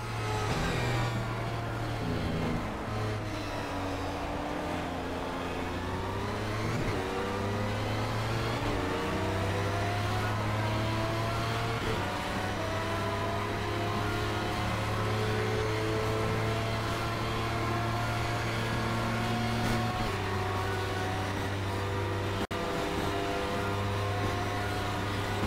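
Racing car engine on a wet Le Mans track in Project CARS, a loud continuous drone rising and falling through gear changes as the car slides in heavy rain, no talk.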